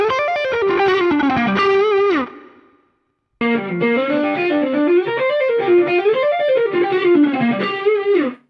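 Close-miked guitar amp playing a distorted, effects-laden electric guitar with sustained, wavering melodic lines. A brief silent gap breaks the playing before it resumes, loud and up front.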